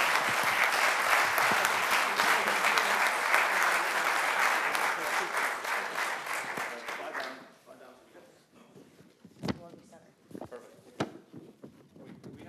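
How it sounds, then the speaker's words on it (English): Loud, full applause from a commission meeting audience honoring a team, lasting about seven seconds before it fades into scattered claps, shuffling and a few nearby voices. "A round of applause."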